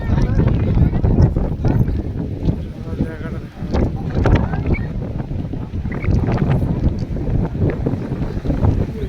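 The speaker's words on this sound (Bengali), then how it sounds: "লঞ্চ যাচ্ছে ওই ঘাট দিয়ে।" A motor launch passing a ghat at Kanyakumari near the Vivekananda Rock, a continuous low rumbling engine and water wash mixed with wind buffeting the microphone, with people talking over it throughout.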